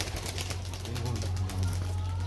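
A pigeon coos softly in low, rolling notes close by, with a voice talking over it and a steady background hum.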